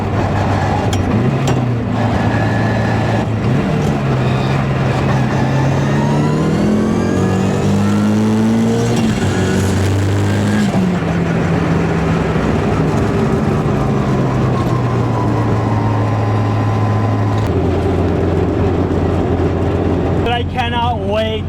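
A car fitted with a dogbox gearbox accelerates hard through several gears, with rising engine pitch, abrupt drops at each clutchless shift, and loud, close, sustained engine noise.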